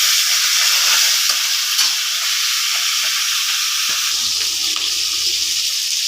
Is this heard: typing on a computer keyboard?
no